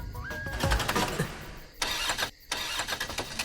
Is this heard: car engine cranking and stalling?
yes